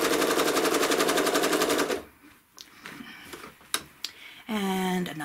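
A home sewing machine stitches a quilt block in a fast, loud, even rattle of needle strokes for two seconds, then stops; a few clicks follow before the stitching starts up again.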